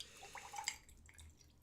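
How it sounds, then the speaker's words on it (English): Water runs and drips into a glass poured for drinking, a faint, brief trickle with a few splashy drops in the first second, then fading to quiet room tone. "I will get myself bit of water so I don't dehydrate here."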